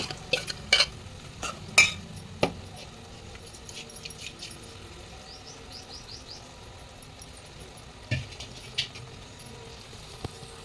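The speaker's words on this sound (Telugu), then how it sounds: "మిక్స్ చేసి పెట్టుకున్న ఉల్లిపాయ టమాటా మిశ్రమాన్ని దీంట్లోకి వేసుకోవాలి" An onion and tomato mixture goes into a frying pan and is stirred, giving scattered clinks and scrapes of a utensil against metal over a faint sizzle, close, with no talk.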